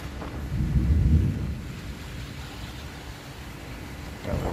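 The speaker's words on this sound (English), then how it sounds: "Got a little thunder now." A deep roll of thunder rumbles in the distance, swelling briefly before fading into a quiet, steady outdoor hush.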